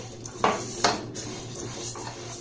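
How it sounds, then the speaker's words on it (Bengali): Raw rice being stirred and lightly fried in a pan over low to medium gas, with a couple of spoon scrapes against the pan over a soft, steady background hiss. "চালটাকে আমি নাড়াচাড়া করে ভেজে নিচ্ছি"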